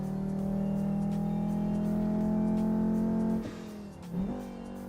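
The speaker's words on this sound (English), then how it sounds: "You can hear the turbo." Volvo S60R turbo car engine in the Forza racing game, a steady droning engine note held at speed that drops away suddenly near the end, then briefly revs again.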